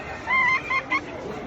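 A Modern Game show chicken calls three times up close, one longer drawn-out cry followed by two short clipped ones, clear and alone over a faint background.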